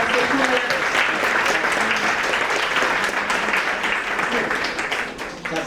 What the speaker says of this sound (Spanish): Aplauso por el pastor Julián.